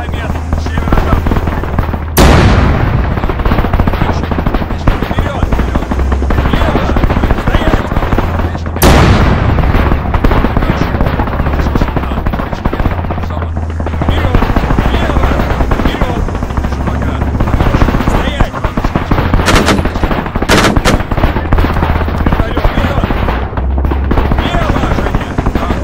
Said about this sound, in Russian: Вертолет, 1 километр, северо-запад